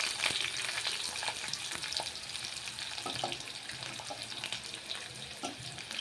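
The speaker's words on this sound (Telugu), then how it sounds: "ఎర్రగా అయ్యేంతవరకు వేపుకోవాలి ఉల్లిపాయలు." Onions sizzle steadily in a pan of hot oil with whole garam masala for a gongura curry, a close, continuous crackling fry with occasional stirring scrapes and no talk.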